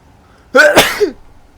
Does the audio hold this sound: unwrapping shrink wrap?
no